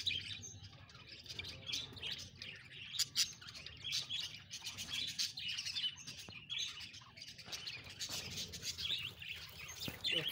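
Three or four Java sparrow chicks chirp and squeak continuously in rapid, high, overlapping bursts, close and fairly faint, with soft rustling underneath and no talking.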